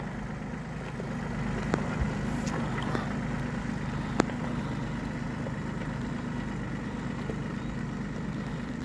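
A new Ransomes tractor engine idles with a steady, even low rumble close by, holding constant throughout with a few faint clicks and knocks on top and no one talking.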